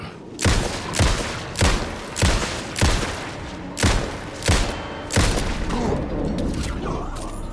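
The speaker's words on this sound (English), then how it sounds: "He was shooting me with something." Gunfire aimed at the player in Alan Wake 2, a run of about eight loud, evenly spaced shots roughly every half second to second, each a sharp booming crack with a short rumbling tail, then a lingering reverberant wash.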